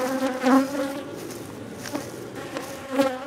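Defensive bees being removed from a dresser buzz loudly and close, a dense droning hum with sharp swells as individual insects fly past.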